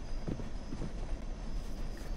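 Hooves clip-clop in a quick, uneven galloping rhythm as a horse runs in the Roblox video game, moderately loud over a low continuous rumble.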